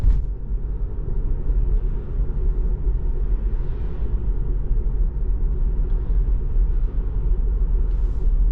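A Tesla Model 3 rolls over a lane through a Swiss village road, giving a steady, loud low road rumble and tyre drone from inside the cabin, with no talking.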